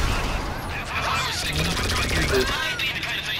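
Dense gunfire in a shooting video game, scattered rapid shots and bursts crackling continuously while someone talks over the action.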